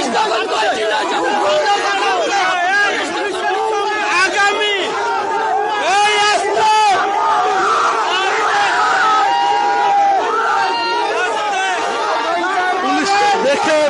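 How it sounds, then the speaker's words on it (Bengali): Dense crowd of traders at Karwan Bazar in a protest scene, many voices shouting and chanting together continuously and loudly throughout, a rowdy babble of overlapping cries with no single clear speaker. "ভুয়া ভুয়া স্লোগান দিচ্ছে"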